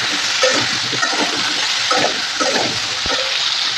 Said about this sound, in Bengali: ততক্ষণ পেঁপেটাকে ভাজতে থাকবো।